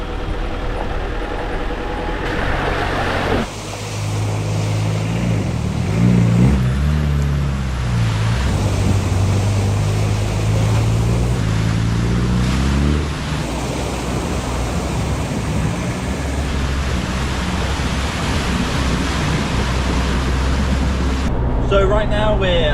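Land Rover pushing through water on an off-road track near a campsite, a steady rumbling engine with broad washing, sloshing noise throughout and shifting engine tones, loud and close.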